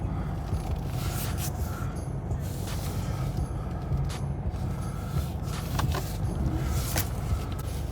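Car pulling away on a short test drive after a stop-start fault repair, a low steady engine and road rumble heard from inside the cabin, with light creaks and rattles and no talk.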